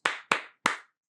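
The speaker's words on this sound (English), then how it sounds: "Clap, clap." Three distinct hand claps, sharp and close, the first two in quick succession and the third after a short pause, each ringing out briefly with nothing else around them.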